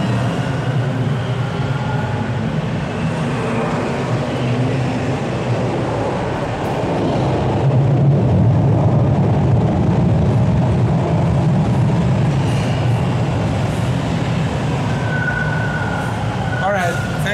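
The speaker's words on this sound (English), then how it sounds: "Oh, here comes our train." A TTC subway train pulls into Keele Street station, a low rumbling roar that builds and swells through the middle and fades with faint squeals, heard amid the echo of the platform.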